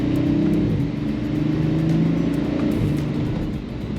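A 2025 Audi RS5 drives with a steady, loud engine drone and burbling exhaust throughout, rumbling close and continuous with slight swells as the throttle changes.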